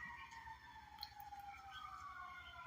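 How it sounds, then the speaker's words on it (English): Sirens wail faintly outside, a distant wavering tone rising and falling steadily against a quiet background. "a lot of siren going on."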